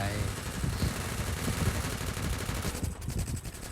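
Rapid bursts of automatic gunfire from the Free Fire video game crackle densely and continuously under excited talking, with sharper shots around the middle.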